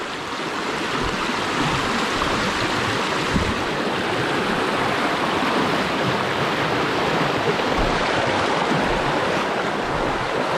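A river flows through a virgin forest, a steady full rushing wash of water heard close and unbroken.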